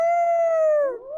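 A single long werewolf howl from The Sims 4 Werewolves, loud and close, a sustained tone that bends downward near the end and rises again briefly.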